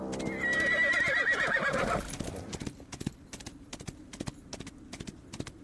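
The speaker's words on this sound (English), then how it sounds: "Then the scream of a horse again." A sound effect in which a horse screams in a loud, shrill neigh for about two seconds, followed by a steady clip-clop of hooves that carries on more quietly.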